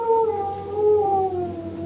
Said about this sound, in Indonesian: Dalam gelap yang samar-samar, saya melihat gonggongan anjing.